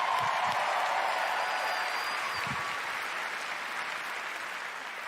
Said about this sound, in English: Another round of applause, please, for Marty Hugo and all of our presenters